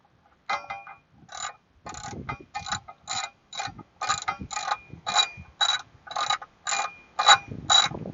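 A ratchet with a small adapter and cobalt socket turns a sway bar bushing bolt on a Toyota Highlander, giving repeated rhythmic clicking strokes, about a dozen close, crisp bursts with short gaps.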